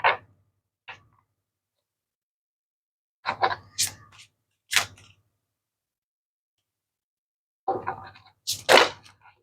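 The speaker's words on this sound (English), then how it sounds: "Give these a shuffle." Tarot cards from a Light Seers deck being shuffled by hand, several short crisp bursts of riffling and snapping card edges separated by silent pauses, close and clear.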